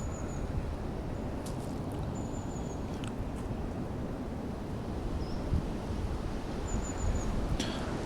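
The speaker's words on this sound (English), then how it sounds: "That wind is definitely picking up." Wind gusts roar steadily across the microphone beside a tiny brook during float fishing, a dense continuous rush with a few faint high bird chirps far off and no speech.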